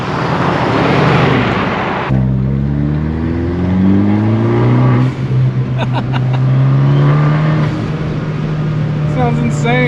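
A Mercedes car approaches and drives past, its engine note rising and sweeping through as it passes close by, loud and continuous over a steady background of road noise from another car.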